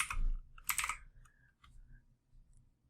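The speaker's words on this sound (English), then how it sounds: "And then I'll go ahead and type in what I think." Short bursts of computer keyboard typing in a design session, a quick cluster of clicky keystrokes followed by a few scattered, fainter taps, close and alone with no talking.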